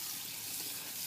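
Cold tap water runs steadily to cool freshly cooked food and stop the cooking, a soft, even rushing wash heard alone and at a low level.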